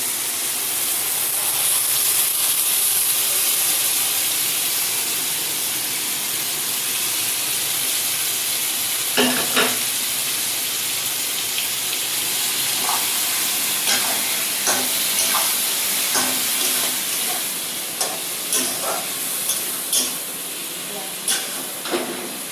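Lote fish added to a frying spice mixture for a Bengali-style curry, a steady loud hiss and sizzle throughout, with scattered clinks and scrapes of stirring growing more frequent in the latter half.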